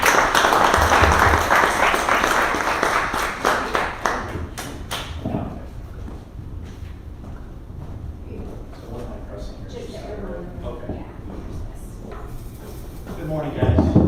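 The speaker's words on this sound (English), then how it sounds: "let's welcome Larry and give a round of applause" An audience claps to welcome a speaker at a business event, loud dense applause for about four seconds that thins into scattered claps, followed by quieter room sounds and shuffling.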